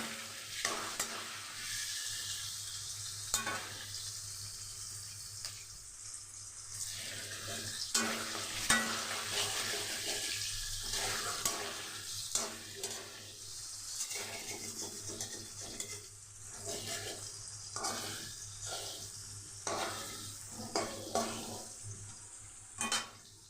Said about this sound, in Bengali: ফুল ফ্লেমে আমি পনিরটা ভেজে নেব, লাল লাল করে ভেজে নেব